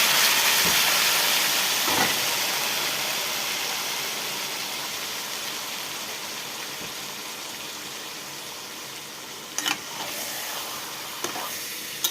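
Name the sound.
marinated chicken sizzling in hot oil in a wok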